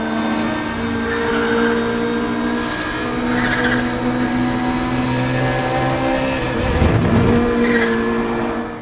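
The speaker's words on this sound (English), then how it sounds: "Firstly, the engine noises." Racing car engines in the video game Need for Speed: The Run drone steadily while tires squeal and skid, with a louder surge near the end; no talk.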